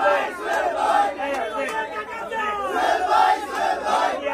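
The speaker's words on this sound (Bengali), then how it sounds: "শেষবারের মতো স্লোগান হবে" Large crowd at a political rally shouting slogans together in loud, rhythmic chant waves, voices overlapping continuously with brief swells and dips.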